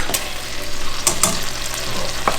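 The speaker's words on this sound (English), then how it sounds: "We're sauteing the onions and then sauteing the mushrooms." Onions and mushrooms sautéing in butter with fish juices in a pan, a loud continuous sizzle broken by a few sharp crackling pops and stirring scrapes.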